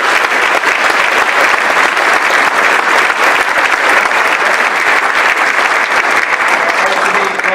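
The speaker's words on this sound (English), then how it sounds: "he deserves a round of applause." Sustained, loud applause from an audience at a high school varsity winter sports awards night, dense steady clapping running unbroken from start to finish.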